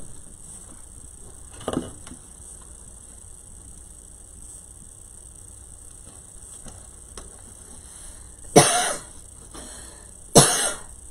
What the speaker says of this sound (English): I get hot, I cough.